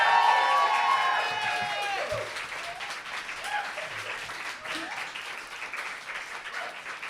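Audience at a trans+ poetry night breaking into loud applause and cheering, starting with whoops and shouts over dense clapping that holds steady and fades slightly over several seconds.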